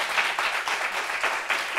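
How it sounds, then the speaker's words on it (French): Audience applause in a gathering, a steady wash of many hands clapping at moderate loudness with slight rhythmic swells, no talk over it. "Applaudissements pour elle"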